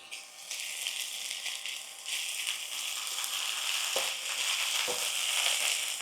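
Ginger garlic paste sizzling in hot oil with onion and green chilli in a pan for a mushroom masala gravy, a steady close crackle and hiss with a couple of soft stirring knocks.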